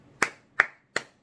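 Three sharp hand claps ring out close by, evenly spaced and alone in a quiet room, each a crisp single smack that decays quickly.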